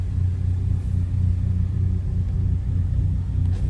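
A Chevrolet Cruze drives along with a low, steady engine rumble and road noise heard from inside the car, with no talk.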